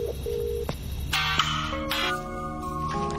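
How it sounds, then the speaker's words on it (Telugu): A telephone call is placed with a short series of electronic dialing tones and beeps at close range, each tone distinct and steady, with no talk. "నేను దానికి ఫోన్ చేసేస్తాను భయ్యా."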